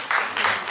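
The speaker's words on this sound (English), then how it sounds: "Can we all stand and give all the candidates a round of applause for their efforts tonight?" An audience at a district debate in Little Haiti applauds the candidates, a burst of dense clapping that swells and holds for under a second, loud and close.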